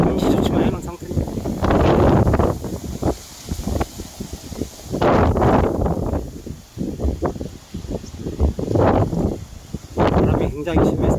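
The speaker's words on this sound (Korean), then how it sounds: "바람이 굉장히 심해서 몸이 막 흔들립니다." Strong wind gusting across the Ulleung airport construction site, buffeting the microphone in heavy, uneven bursts while someone talks throughout.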